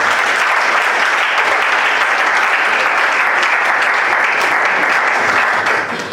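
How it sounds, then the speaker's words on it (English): An audience at a national debate championship opening ceremony claps steadily and loudly for several seconds, a dense sustained applause that thins slightly at the very end. "Clap for them again."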